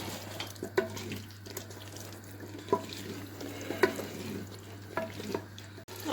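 Mutton liver (kaleji) fries with spices in a pan, giving a soft continuous sizzle broken by several sharp spoon scrapes and taps against the metal, with a low steady hum underneath.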